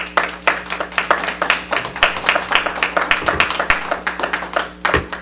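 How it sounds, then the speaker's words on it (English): Sparse hand clapping at a Common Council regular meeting, a few people producing uneven, distinct claps in a loose rhythm that continue for several seconds before stopping. "Hold your applause till the end"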